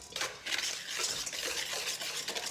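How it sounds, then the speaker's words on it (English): Oat milk and melted butter are whisked together in a bowl, giving a steady close-up swishing and scraping that runs continuously with no talk. "and then we whisk it together"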